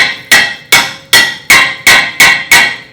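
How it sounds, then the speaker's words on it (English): A hammer strikes the corner of a seized brake rotor on a 2nd-generation Toyota Tacoma, with seven loud, ringing metallic blows in a steady rhythm, close up and with no talking. "You want to hit it right here on the corner if it's like seized on the corner."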